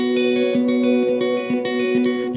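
An electric guitar played through a reverb pedal with the mix knob at full: sustained chords ring out in a lush, washy reverb tail while repeated plucked attacks still cut through clearly, steady and loud, with no talking.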